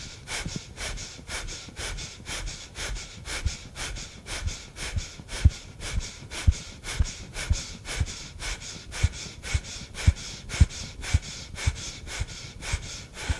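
Rapid, forceful pumping breaths of a Breath of Joy exercise repeat in a steady fast rhythm, about two per second, close and loud.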